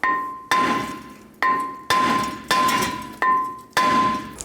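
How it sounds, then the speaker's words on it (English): Seven sharp metallic hammer strikes on a Ford F350 Super Duty front brake rotor at a steady pace, each ringing out with a clear tone that fades before the next blow. "you can take a hammer and give it a tap"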